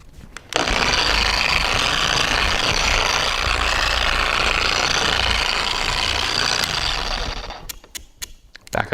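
Porter Cable machine polisher running at its lowest speed setting 1, a loud, steady whirring hum that starts abruptly, holds evenly, then winds down and cuts off with a few clicks.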